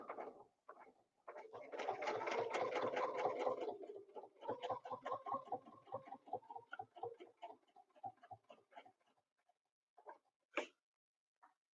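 A sewing machine stitches in quiet rhythmic bursts: a steady run of rapid mechanical ticking, then slower spaced stitches and a few isolated clicks, with no talking.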